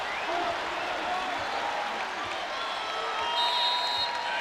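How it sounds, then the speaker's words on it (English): A Rupp Arena crowd at a Kentucky versus Missouri basketball game cheers and applauds in a steady roar, with a commentator talking over the noise throughout. "And the Rupp crowd back into this game thanks to this mini run by the Cats."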